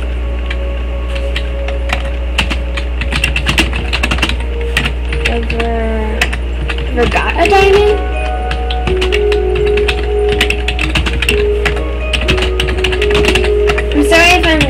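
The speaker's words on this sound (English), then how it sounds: "I'm sorry if I'm typing slow." Keys clatter in an irregular run on a computer keyboard throughout, sitting close beneath a person's talking and a steady low hum, with brief pauses between bursts.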